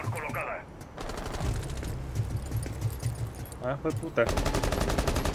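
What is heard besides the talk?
gunfire in video game Rainbow Six Siege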